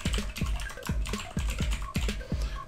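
Keys on a computer keyboard clatter in quick, close, fairly quiet taps as a password is entered, an uneven run of clicks with brief gaps.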